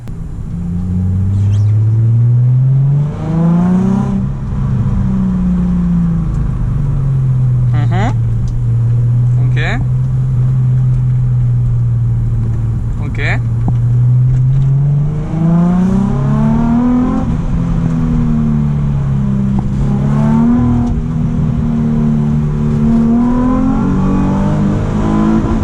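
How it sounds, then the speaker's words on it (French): A Nissan 350Z fitted with R8 ignition coils revs loudly and climbs cleanly toward the rev limiter. The engine drone rises and falls in repeated sweeps with no gaps, and a voice talks under the engine noise. "là j'ai eu vraiment une bonne montée en régime, j'ai eu aucun trou à l'accélération, rien du tout, jusqu'au rupteur pour le coup"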